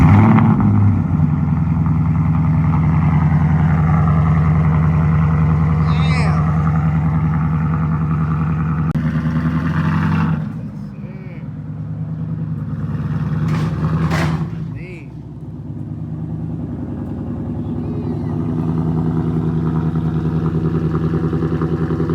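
A Ford Mustang GT S650 V8 with a custom H- and X-pipe exhaust idles with a heavy, burbling exhaust, dipping and revving briefly a couple of times before settling back into a steady rumble.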